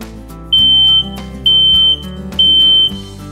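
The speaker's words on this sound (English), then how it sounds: "I'm going to use this broom handle to test the smoke detector's batteries." Three loud, piercing electronic beeps from a smoke alarm being tested sound in an even rhythm, each about half a second long, over a background hum.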